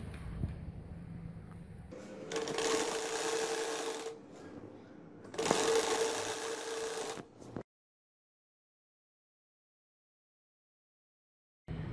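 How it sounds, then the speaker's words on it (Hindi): Sewing machine stitching the drawstring channel of a poncha, two loud mechanical runs of a few seconds each separated by a brief pause, then silence. "अब मैं इसकी नाली को सिलाई लगा रही हूँ।"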